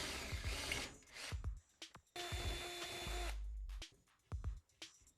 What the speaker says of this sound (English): Using your drill and 16mm auger bit, drill holes through the door for your handle spindle